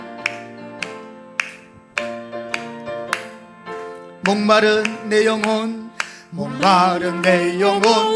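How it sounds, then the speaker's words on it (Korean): Congregation in a Korean church clapping in steady rhythm while singing a hymn during Sunday worship, sharp regular claps at first, then joined by loud sung voices and instruments. "우리 힘차게 박수하며 찬양합니다."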